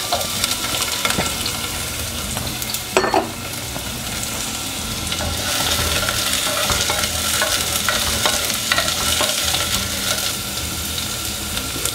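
Garlic and onion sautéing in a little oil for beef mechado, a steady loud sizzle with repeated spatula scrapes and stirring clatter throughout, no voices.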